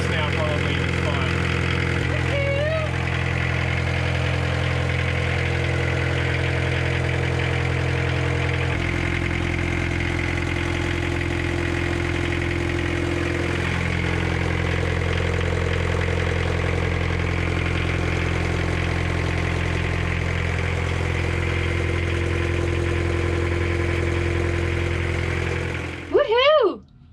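A boat engine idles at raised revs while warming up, at a raised, even pitch, running smoothly and loud throughout with a low constant drone, ending in a brief rising whine.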